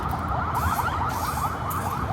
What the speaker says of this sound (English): there are more sirens on this road.